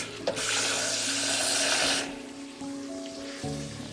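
About a cup of water pours into a pot of lamb keema curry sizzling in ghee and yogurt, a loud rushing pour lasting a couple of seconds, then quieter bubbling and clinks with no talking.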